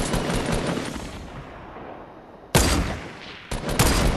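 Video game gunfire in a duo match: dense bursts of rapid shots fill the opening seconds and fade, then two sharp, loud volleys break in near the end, with no talk.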